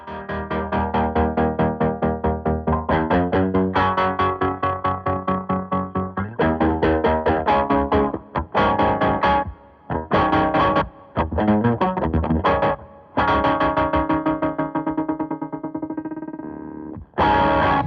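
Electric guitar with a gainy, distorted tone played through a Stone Deaf Tremotron tremolo pedal, loud chugging riffs with rhythmic stops and pulsing chopped chords, alone without talk.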